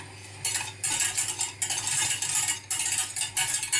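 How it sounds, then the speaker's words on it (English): Gravy for a Sunday roast dinner is whisked in a small pan over raised heat, a close, brisk metallic clatter of whisk against pan in quick bursts with short pauses between, and no voices. "I'm going to whisk this like so"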